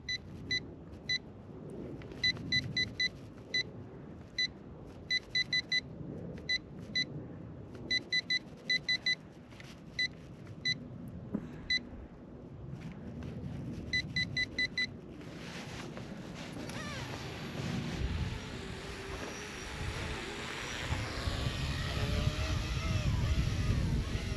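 A car engine in a racing video game revs and accelerates. Rhythmic electronic beeps come first, then the engine noise builds louder and steadier toward the end, with faint talking in the background.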